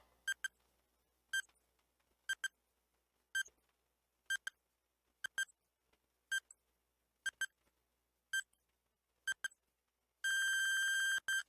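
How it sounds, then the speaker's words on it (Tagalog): A quiz countdown timer ticks out ten evenly spaced double beeps about a second apart, then ends in a long, loud, sustained buzzer tone. "Your timer starts now."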